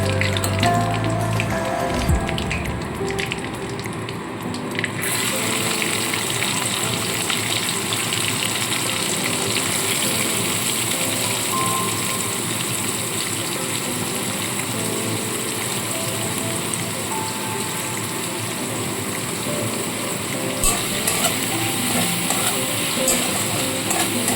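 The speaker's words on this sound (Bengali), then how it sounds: "পেঁয়াজটা খুব হালকাভাবে ভেজে নিয়ে" Chopped onion frying in hot oil in a pan for a pointed gourd and prawn curry, a steady dense sizzle and crackle that stays loud and continuous throughout, close up with no voices.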